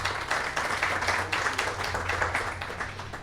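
Audience at the Ecuador en Debate discussion giving a speaker a steady round of applause: sustained, even clapping from a moderately sized room, with no speech over it.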